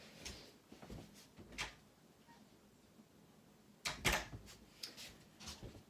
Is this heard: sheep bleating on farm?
no